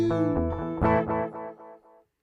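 An electric guitar played through the distortion setting of a Line 6 POD Express amp modeler rings out in a few strummed, harmonically thick chords that decay and fade to silence by the end, with no talking.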